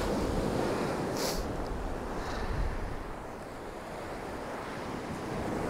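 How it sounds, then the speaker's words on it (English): Ocean waves break and wash around rocks on the Welsh coast by Cwyfan Church, a continuous, moderately loud surf roar with gusty wind buffeting the microphone. "Bit of wave action around those rocks"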